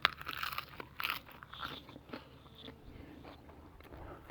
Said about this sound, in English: Sorry for munching